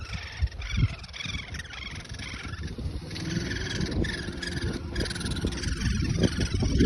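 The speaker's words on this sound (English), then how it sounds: "Can you hear the little fellas? There's a nest of woodpeckers in here" Raspy begging calls of woodpecker chicks hidden in a garden tree nest come in overlapping bursts, close by, with a steady rumble of distant noise underneath that grows louder toward the end.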